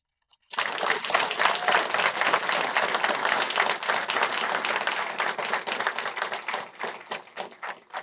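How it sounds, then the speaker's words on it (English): At a graduation ceremony for a VA police officer class, a roomful of people breaks into applause for the staff, starting abruptly after a moment of silence and continuing as dense, steady clapping that thins slightly toward the end. "So I want to give a round of applause to our staff."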